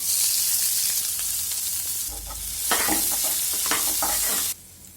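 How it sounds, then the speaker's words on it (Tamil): Finely chopped onions fry in a pan with a bright, steady sizzle, joined midway by scraping stirs and soft knocks before stopping suddenly. "நெக்ஸ்ட் வந்து பொடியாக நறுக்குன வெங்காயம் இதில் ஆட் பண்ணிக்கலாம்."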